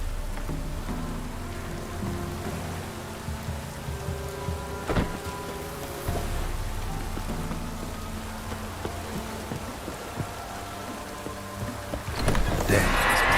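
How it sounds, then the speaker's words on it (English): Steady rain in The Witcher 3: Wild Hunt pours down with a constant hiss, a low rumble beneath it and a sharp crack partway through. "Looks like rain."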